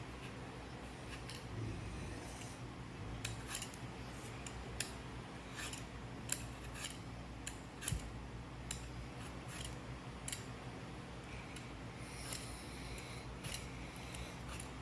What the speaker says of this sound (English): Then start peeling the apple.